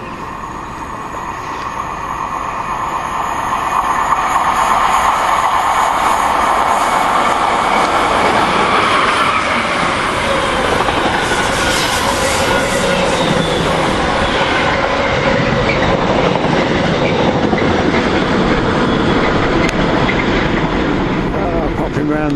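A freight train from Tilbury to Daventry rumbles past at Long Buckby, a loud, steady roar of wheels and wagons with rhythmic clatter that builds early and then holds throughout.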